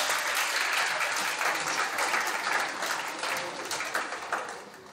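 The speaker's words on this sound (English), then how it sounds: "Let's give them a round of applause." Sustained crowd applause fills a high school volleyball gym during senior night, broad clapping that holds steady and begins to fade toward the end, with no speech over it.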